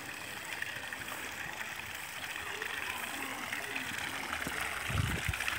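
Water from a solar-powered irrigation pump pours into a tank with a steady, rushing gurgle, close and constant, with a brief low thump near the end and no voices.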